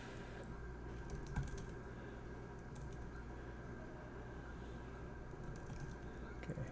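Typing on a computer keyboard during a programming lecture: faint, scattered key clicks sit under a steady room hum throughout.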